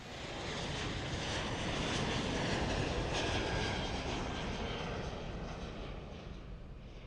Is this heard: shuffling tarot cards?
no